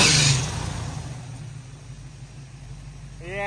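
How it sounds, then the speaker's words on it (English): An Oldsmobile engine with a freshly installed top end runs close by, a low steady rumble that fades slightly, with a brief high squeal from the belt near the end. "It's running. Got a little belt squeal."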